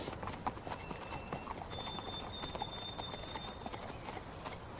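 Horse hooves clip-clopping at a steady walking rhythm during a gentle countryside ride, close and continuous, with faint outdoor background noise.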